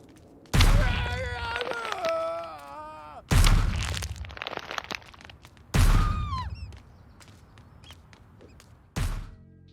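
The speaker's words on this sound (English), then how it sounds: "So the giant gun is actually a working giant gun, and one that can be used to wreak havoc in-game" A giant gun shaped like the weapon shop's logo in the video game Saints Row fires four heavy booming blasts, spaced a few seconds apart. Warbling tonal game sounds ring out between the shots.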